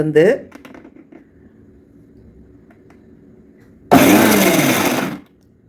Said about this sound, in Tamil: வெங்காயம் போட்ட பிற்பாடு இங்கே பாருங்கள், பல்ஸ்